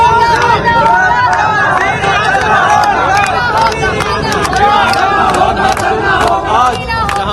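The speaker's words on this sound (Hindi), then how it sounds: "सुनाइए जरा भीड़ कितनी आक्रोशित है।" Large angry crowd of Imran Khan supporters in Rawalpindi, loud continuous shouting and chanting voices massed together, close and unbroken for the whole stretch.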